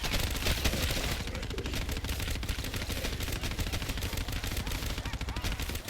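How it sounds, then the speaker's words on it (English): Dense, continuous automatic gunfire from the Black Ops 3 zombies mode on the Nacht Der Untoten map, with rapid shots firing nonstop throughout and no pauses or talk over them. "the amount of ammo it fucking takes to kill a couple of zombies right now"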